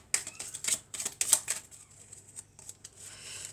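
Tarot cards are drawn and handled, giving a run of quick, crisp papery flicks and slides close by, with short pauses between bursts and quieter rustling toward the end.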